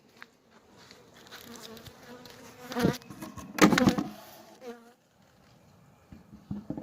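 Honeybees buzz around an open hive during a split on an overcast, windy day, a steady close drone with individual bees swelling louder as they pass near, mixed with brief handling bumps and rustles.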